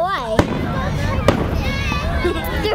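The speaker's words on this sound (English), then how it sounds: "those are small fireworks. You should see Disney World" Fireworks over Sault Ste. Marie, Michigan, with sharp bursts and pops going off several times amid whistling and crackle, while people talk and exclaim close by.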